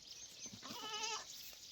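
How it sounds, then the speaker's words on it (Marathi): A goat bleats once, faint and at a distance, a short wavering cry in the middle of a quiet stretch while the herd of goats and young kids grazes near a forest. "शेळ्या चारायला आलो. लहान लहान पिल्लं पण आणलेत शेळ्यांची"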